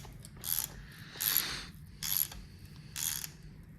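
A ratchet wrench clicks in four separate bursts, evenly spaced and close, as rocker arm bolts are tightened on a KA24 engine being rebuilt.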